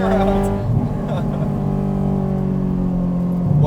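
A Honda S2000 AP2 with a naturally aspirated 8,400 rpm engine, pulling hard on a winding mountain road, its steady loud drone dipping briefly and climbing again, with people talking inside the car over it.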